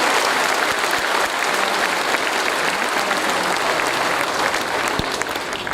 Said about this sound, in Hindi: जोरदार ताली उनके लिए